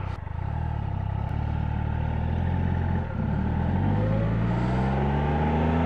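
A Triumph Trophy 1200 motorcycle engine hums steadily while riding a mountain road, a close, continuous drone with a slight dip near the middle and a gradual rise in pitch toward the end.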